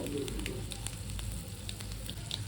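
Chopped garlic dropped into hot oil with popped mustard seeds and cumin, a steady close sizzle with crackling spits and a low burner hum underneath, no pause throughout.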